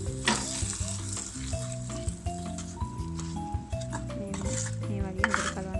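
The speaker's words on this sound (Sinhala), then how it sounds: "මේ විදිහට දාලා හොඳට කලවම් කරගෙන" A spoon scrapes and clinks against a pan as bean seed curry is stirred over sizzling heat, with steady frying noise and tonal background music.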